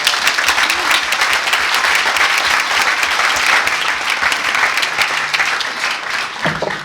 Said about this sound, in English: Let's go ahead and give these guys a round of applause.